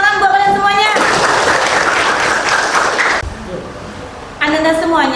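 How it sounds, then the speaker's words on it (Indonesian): Classroom applause from students in a biology lesson, a burst of loud clapping lasting about two seconds between a teacher's spoken lines. "Tepuk tangan buat kalian semuanya."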